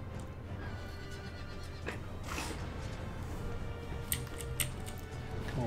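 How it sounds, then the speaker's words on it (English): Cavalry horses charge in the Empire: Total War battle game, with loud whinnies and neighing over a steady rumble of hooves and battle noise, ending in a few sharp clashes. "Use my regiment of horse to charge the general from the rear."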